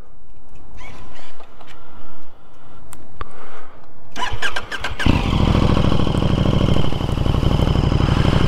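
A KTM Super Duke fitted with an SC Project SC1-R carbon fiber exhaust starts with a few faint clicks and cranks. The engine then fires into a loud, deep, steady idle that continues to the end, with no talk.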